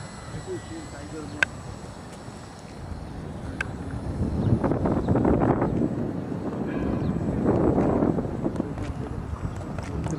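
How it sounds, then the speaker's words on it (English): Strong gusts of high wind buffet the microphone outdoors where a small model helicopter is flown, a steady rumbling roar that swells louder in two broad surges. "It's very windy today"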